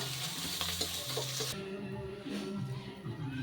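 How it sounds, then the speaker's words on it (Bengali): Fried shrimp are lifted out of a sizzling wok: hot-oil crackle and utensil scrapes for about a second and a half, then the sizzle drops to a softer bubbling with light clinks. "তো এই পর্যায়ে চিংড়ি মাছটাকে আমি কড়া থেকে তুলে নিচ্ছি।"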